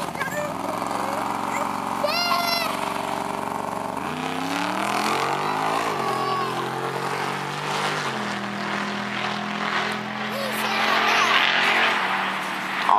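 A bracket drag racing car launches at a Swedish strip, its engine revving hard and climbing in pitch as it pulls away, while an announcer talks over the noise.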